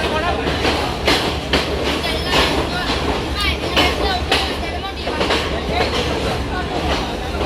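A train on the Badulla to Colombo route in Sri Lanka rolls along with rhythmic clickety-clack from the wheels and a steady rumble, heard from on board.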